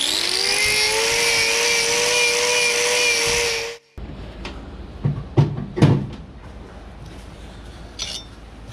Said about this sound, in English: This is really hard to cut, so I'm going to thin it out with the grinder